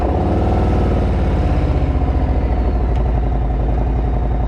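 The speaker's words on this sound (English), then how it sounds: "This baby has the Tab Performance exhaust on here, which sound insane." A Harley-Davidson Road King motorcycle with a Tab Performance exhaust cold starts and settles into a loud, close, loping idle, with its uneven lumpy pulse steady throughout.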